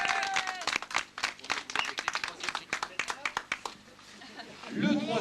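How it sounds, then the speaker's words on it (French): A crowd at a 1993 sea scooter race in Mayenne on 14 July claps in a brisk burst close by. The clapping thins out toward the end as an announcer's voice returns. "Je vais vous demander de l'applaudir très fort"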